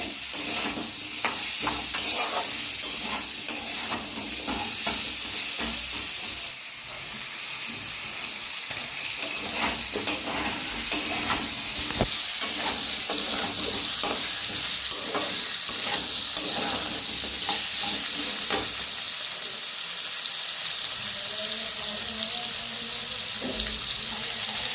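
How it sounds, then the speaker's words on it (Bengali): A spicy taro, eggplant and egg curry is stirred and sautéed with salt in a pan, giving a steady close sizzle with scraping spoon strokes throughout and no talk. "লবণ দিয়ে দেবো মিশিয়ে নেবো ভালো করে এরকম কষিয়ে নিতে হবে"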